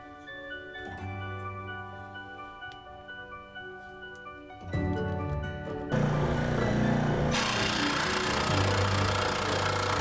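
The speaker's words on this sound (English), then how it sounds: "I'm using my scroll saw to cut out these wheels." A scroll saw cutting wooden wheels, a steady mechanical motor hum with harmonic whine that grows louder and harsher partway through as the blade bites into the wood, alone with no talk.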